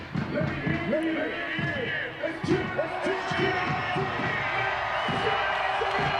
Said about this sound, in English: Crowd encouraged to make some noise.